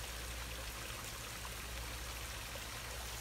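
Water pours steadily into a pond's top skimmer, a continuous close rushing trickle with no breaks and no voices.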